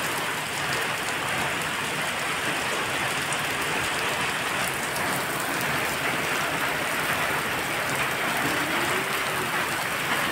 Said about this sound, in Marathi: कसं जोरदार पाऊस होतो